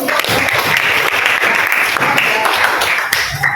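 A classroom of students applauds, a dense steady clapping that fills the whole stretch, with a few voices mixed in.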